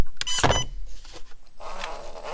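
An FMS FCX10 K5 Blazer RC crawler's differential lock engages with a brief, sharp whirring and clicking burst near the start, followed by a faint, steady high motor whine.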